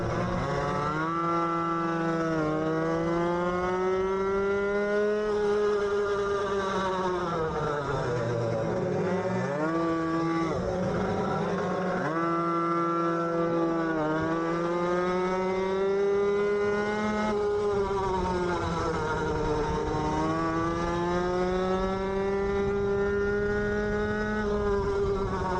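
Racing mopeds in the Puchshop Racing Cup at Assen give a continuous buzzing two-stroke whine, pitch sweeping down and back up as they brake and accelerate through corners, loud and steady with no talk.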